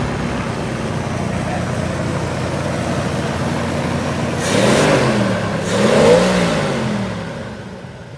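A 1954 Buick Roadmaster engine idles with a steady low rumble, then swells through two distinct revs in close succession before settling back toward idle, heard close and with no talk.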